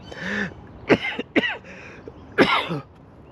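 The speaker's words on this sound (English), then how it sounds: "excuse the cough" Several harsh coughs and raspy throat clearings in quick succession from a single nearby person, with short pauses between bursts.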